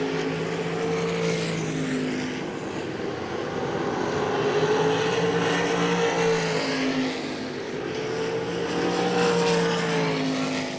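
Race cars roar continuously around a speedway track during a heat race, a loud sustained engine drone that swells and fades as cars pass, with no talk over it.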